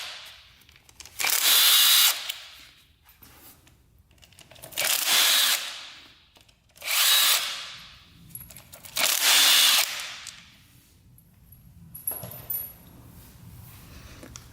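Four loud, close bursts of a power tool spin out the flywheel cover bolts on a KTM 450 dirt bike, each whir rising and falling over a couple of seconds with quieter rattling and handling noises between.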